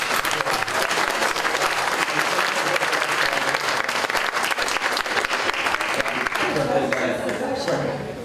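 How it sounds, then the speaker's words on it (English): Sustained audience applause from a crowd at a community forum on immigration on Martha's Vineyard, steady dense clapping for the Brazilian community, tapering slightly near the end with a voice beginning faintly underneath. "let's give our Brazilian community a round of applause."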